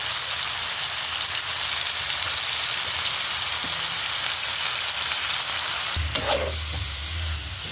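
Native chicken meat sizzles and fries steadily in hot oil, a dense continuous crackle with a brief louder clatter near the end as the meat is stirred or added; no one talks.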